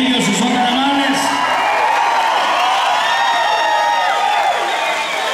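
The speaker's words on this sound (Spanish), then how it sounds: "Que se oiga ese aplauso más fuerte para ellos" A mariachi concert crowd erupts in continuous loud cheering, whoops and shouts with clapping blended in, a dense roar of many voices that holds steady throughout.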